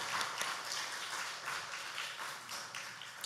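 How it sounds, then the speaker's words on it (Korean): A church congregation at a Sunday morning service applauds after a worship song, the scattered clapping fairly soft and a little distant in a reverberant hall. "예, 박수하겠습니다."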